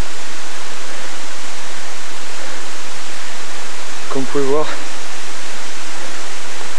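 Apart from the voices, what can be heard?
waterfall in dense forest, Moorea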